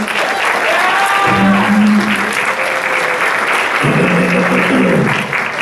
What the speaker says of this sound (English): Let me have a round of applause for him.